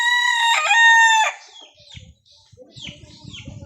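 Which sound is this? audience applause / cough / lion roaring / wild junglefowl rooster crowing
wild junglefowl rooster crowing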